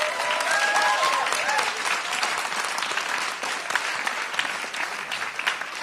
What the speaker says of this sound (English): one more round of applause for these amazing young filmmakers